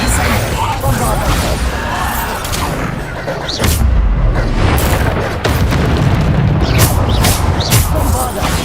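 Bombarda spell blasts in the Hogwarts Legacy video game: repeated heavy booming explosions and crashes in quick succession, loud and close, mixed with shouted spell calls.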